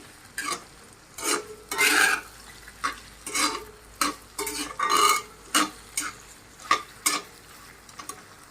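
Local meat frying in oil with spices, stirred in a pan in repeated scraping strokes roughly every half second over a soft sizzle, close and without speech.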